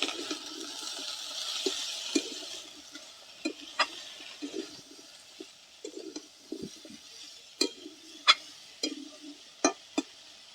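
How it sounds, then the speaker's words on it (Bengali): Taro stolons and fish stirred in a pan with salt and turmeric after frying ginger and garlic: scattered soft scrapes and clinks of a spatula against the pan, close and intermittent, over a quiet background hiss with no talk. "লবণ হলুদ গুঁড়ো ভালো করে নেড়ে নেব"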